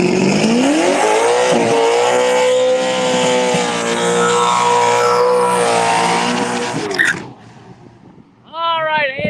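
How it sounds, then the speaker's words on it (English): A drag race car at Empire Dragway launches on Hoosier tires, engine howling and tires spinning in a loud sustained rising whine. The engine then cuts off and revs briefly again after a short lull. "lighting the Hoosier tires up pretty strong there"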